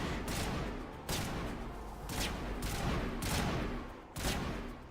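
Rapid automatic gunfire from the Mass Effect video game comes in repeated loud bursts, each roughly a second long and separated by brief dips, with no voices over it.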